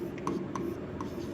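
A pen writes out a Class 10 maths solution, quick close scratchy strokes on paper with a few sharp ticks as it moves across the page.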